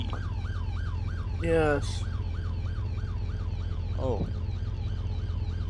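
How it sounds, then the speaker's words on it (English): Wailing emergency-vehicle siren from the Roblox game Ultimate Driving, a steady repeating rise-and-fall cycle heard loud and close throughout, with brief voices and a couple of sweeping tones layered on top. "I put the siren on B."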